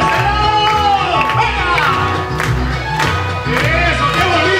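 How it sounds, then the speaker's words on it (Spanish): Crowd at a live Spanish pop concert clapping in rhythm along with a loud band and singer, steady cheering and applause blended under the music throughout. "¿Dónde están las palmas? ¡Hey, hey, hey, hey, hey, hey! ¡Eso, venga, las palmas!"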